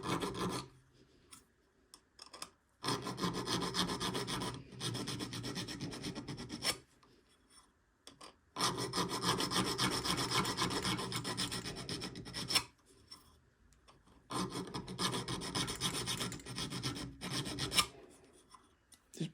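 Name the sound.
hand file filing a workpiece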